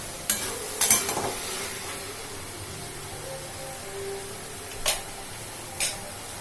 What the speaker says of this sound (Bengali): এরকম করে ভালো করে নেড়ে নিতে হবে